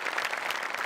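An audience breaks into dense, even applause, a short burst of many hands clapping together at steady loudness.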